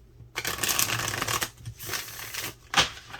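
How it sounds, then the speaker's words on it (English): Tarot cards being shuffled in several bursts of riffling and shuffling, close and fairly soft, separated by short pauses, with no talking. "We'll do one more shuffle."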